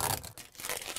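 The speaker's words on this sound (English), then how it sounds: "And then you can peel the protective covering off." A protective plastic film is peeled from a part of an RV solar power setup, giving a brief, close crinkling tear.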